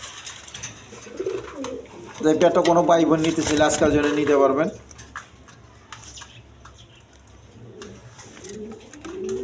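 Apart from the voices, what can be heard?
pigeons cooing, Blackless Sharding pigeons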